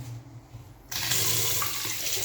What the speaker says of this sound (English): Even this sink here has hot water.